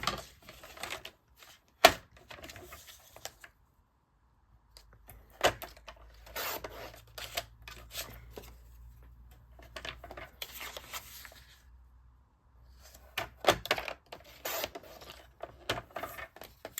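Paper from a small peach-coloured paper pack being cut to 4 by 5.25 inches for a card, giving scattered dry snips and rustling strokes, close and fairly quiet, with pauses between bursts and no talking.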